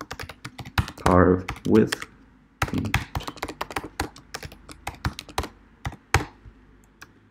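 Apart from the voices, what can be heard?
typing on a computer keyboard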